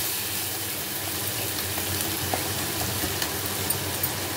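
Spice paste cooking in oil with a splash of water, a steady low sizzle and bubbling with occasional faint ticks, moderately quiet.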